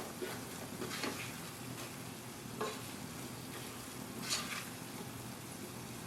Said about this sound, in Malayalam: ഇപ്പോൾ വെളുത്തുള്ളിയൊക്കെ നന്നായി വഴഞ്ഞിട്ടുണ്ട്.